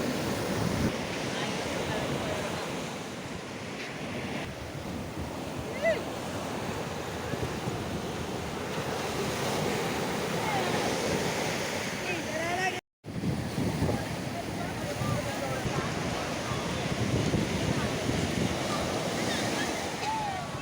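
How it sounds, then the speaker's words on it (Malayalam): Ocean waves roll and break steadily on Payyambalam beach, a continuous loud surf wash mixed with wind buffeting the microphone, briefly cut by a momentary dropout. "തിരമാലകളുടെ ആ ഒരു വരവ് നോക്കിയ ആഘോഷം എന്ന് പറയുന്നത് ഇതൊക്കെയാണ് കേട്ടോ"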